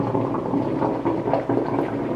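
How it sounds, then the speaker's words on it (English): A small handheld steamer, overfilled, bubbles and sputters steadily, a close, continuous gurgling boil with irregular pops of water bursting out. "It shouldn't be popping out all of this water."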